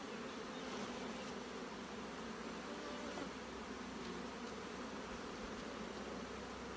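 Honey bees hum in a continuous, dense, quiet buzz as a beekeeper shakes them down into the bottom box of a hive during a nectar flow, with no pauses or voices.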